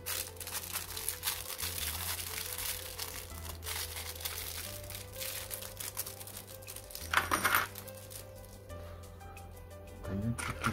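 Small metal keys and screws clink and rattle together close up, with crinkling packaging and a brief louder jingle midway.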